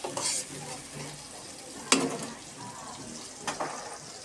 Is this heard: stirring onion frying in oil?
yes